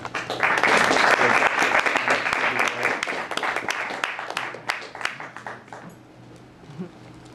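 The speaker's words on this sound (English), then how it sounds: "How about another round of applause for Yuri Kageyama?" An audience applauds poet Yuri Kageyama at a book party: a full burst of clapping that rises quickly, holds, then thins into scattered claps and fades out over several seconds.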